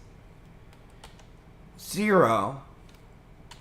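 Sparse keystrokes on a computer keyboard as a Linux grep command is entered, a few faint clicks spread out while someone speaks over them.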